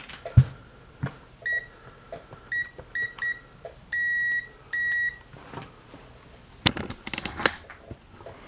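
Continuity test beeps from a multimeter while working on a 1994 Saab 9000 starter solenoid: several short sharp electronic tones in an uneven series, two of them held longer, amid light handling clicks and rustle.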